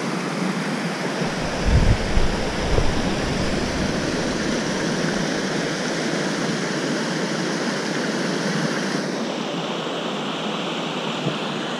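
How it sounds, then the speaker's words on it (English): A steady, loud rush of a waterfall on the Cascade River along the Superior Hiking Trail roars continuously, broad and unbroken, with a brief rumble of wind buffeting the microphone early on. "So many pretty waterfalls."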